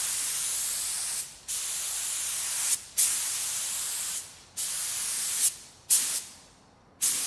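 Spray gun or aerosol applying a second coat of paint to a plastic car bumper cover, a loud close hiss in repeated bursts of one to two seconds separated by short pauses.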